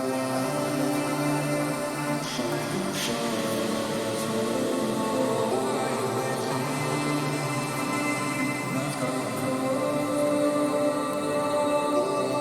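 Dense hardstyle track with reverb-drenched, pitched-down vocals, a continuous wash of sustained synth layers and voice at steady loudness with no pauses.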